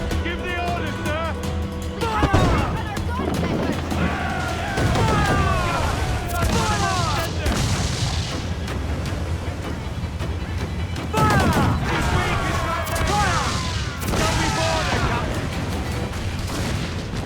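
Ship cannons fire in the naval battles of Assassin's Creed IV Black Flag as a series of heavy booms in clusters, loud and close, with shouted voices talking between and over the blasts.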